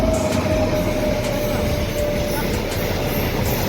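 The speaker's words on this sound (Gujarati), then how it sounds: "હજી આપણે તો ભાઈ સામાન ઉતારતા ને ત્યાં જ રેલગાડી આવી ગઈ." A long train passing on a railway line close by, a steady loud rumble of wheels with a brief horn-like tone and occasional clacks from the cars going past.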